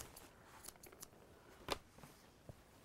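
Several crisp scissor snips, close and fairly quiet, spaced irregularly with short pauses between cuts, trimming a dog's whiskers.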